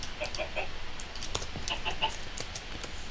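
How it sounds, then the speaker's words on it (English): Chickens clucking in a coop in Minecraft, short repeated synthetic clucks and chirps in loose bursts over a light background hiss. "here's the chicken coop I made"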